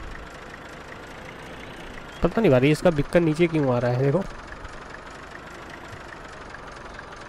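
A Sonalika 60Di tractor in Farming Simulator 22 runs with a steady low engine drone, moderately loud and even, while someone talks over it for a couple of seconds midway.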